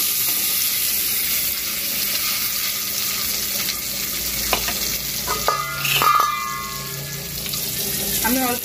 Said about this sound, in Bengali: তেলটা গরম হয়ে গেছে এবারে আমি ডিমটা দিয়ে দিচ্ছি